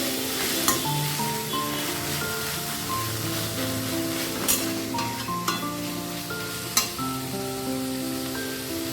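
Whole spices sizzle steadily in a hot pan while a spoon stirs through them, a continuous close frying hiss punctuated by a few sharp scrapes and taps against the metal.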